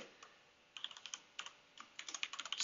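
Fingers type on a computer keyboard in quick, uneven bursts of crisp, close keystrokes, with short pauses between the runs of keys.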